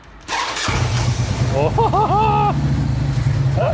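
A Harley-Davidson Street Bob motorcycle engine cranks and fires up, settling into a deep, loud rumbling idle close by, with people talking over it.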